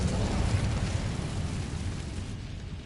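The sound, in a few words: Incendio fire spell cast, video game Hogwarts Legacy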